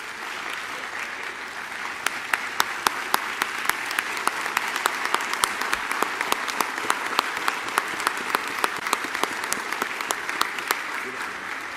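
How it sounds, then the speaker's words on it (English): A college forum audience applauds a guest speaker after his talk, broad sustained clapping with sharp individual claps cracking close by at a quick, uneven rhythm and a few faint voices beneath. "Give him a round of applause, please."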